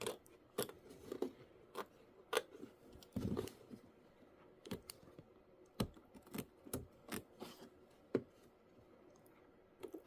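Scissors trimming fabric on a small butterfly-block mini quilt, a series of sharp close snips in an uneven rhythm, with quiet pauses between cuts and no talking.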